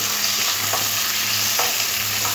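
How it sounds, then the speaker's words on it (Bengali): Halved pointed gourds frying in oil in a wok, giving a loud, continuous close sizzle with occasional stirring scrapes. "তেলের মধ্যে পটলগুলো দিয়ে দিয়েছি।"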